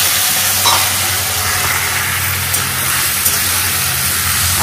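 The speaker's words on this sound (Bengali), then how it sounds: "মানে পনির ভাজা হয়ে গেছে, আলুটা দিই" Paneer and potatoes fry in a pan, giving a continuous close, even hiss of sizzling oil with a low background hum and occasional faint stirring sounds.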